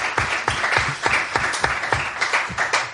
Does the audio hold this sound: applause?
yes